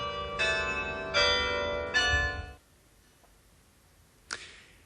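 Carillon bells in the belfry of Bergues, a set of fifty bells, ring out in three loud, resonant strikes with rich sustained overtones before cutting off, followed by near silence and one brief sharp knock.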